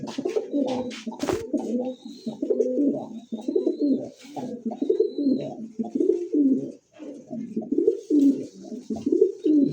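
Bombay pigeons coo close by in repeated low, throaty rolling calls, one after another almost without pause, with a few faint higher chirps between them.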